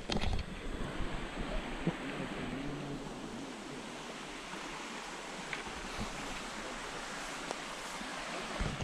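A swollen river runs high at a fishing spot in Estación Cocorná, Puerto Triunfo, Antioquia, Colombia, its rushing water making a constant, broad wash that stays steady throughout, with no voices over it.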